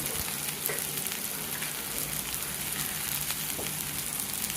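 Red chili powder, turmeric and garam masala sizzle in a small amount of hot oil while cooking a spring onion vegetable dish, giving a steady, close, even frying hiss that carries without a break.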